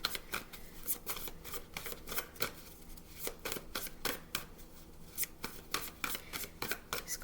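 Stiff, heavy-stock tarot cards are riffled and shuffled by hand in quick repeated bursts, close up and crisp, with brief pauses between shuffles.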